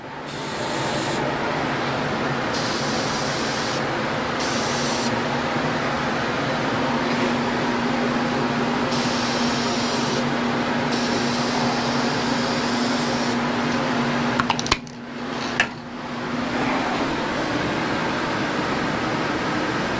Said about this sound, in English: We're going to spray the bottom.